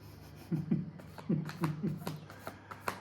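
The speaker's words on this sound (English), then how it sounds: "just shuffle the cards, will you?" Soft riffling and flicking of playing cards being shuffled, a series of quick papery bursts close by over a low steady hum.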